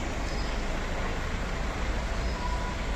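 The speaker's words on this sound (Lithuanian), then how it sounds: "Kabančio traukinio apsukimas." The Wuppertal suspended monorail train turns around at the end of its line in Germany, giving off a steady, loud mechanical rumble and hum that holds even throughout, with no voices.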